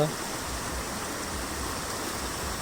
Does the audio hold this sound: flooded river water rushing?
yes